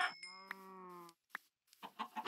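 Chickens in Minecraft give short clucks in brief bursts, after an opening steady tone, all fairly quiet.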